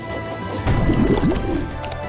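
Water spell effect in Chained Echoes: a short liquid gurgle and splashing burble rising mid-clip, moderately loud over steady game music.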